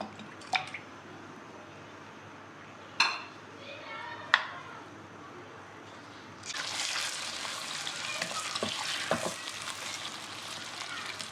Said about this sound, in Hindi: चिकन हमारी जैसी फ्राई होना शुरू हुई है